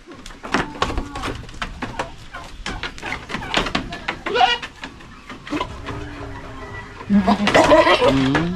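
Female breeding goats in a farm pen bleat repeatedly, sharp cries coming one after another at close range, with fowl calling faintly among them and a louder burst of bleating near the end.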